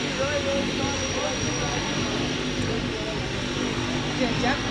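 Loud, steady drone of an aircraft engine inside a skydiving plane before a jump, a constant broadband roar that fills the whole stretch, with people talking over it.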